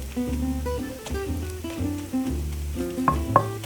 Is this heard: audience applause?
no